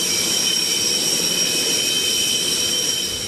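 A Russian jet fighter engine roars steadily with a high whine, loud and close, a constant sustained drone with no talk.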